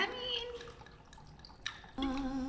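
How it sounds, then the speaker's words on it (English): Chilled pineapple papaya fruit wine is poured into a glass with a faint trickling, splashing stream, partly under a person speaking. "how much am I pouring? Because I can pour a lot."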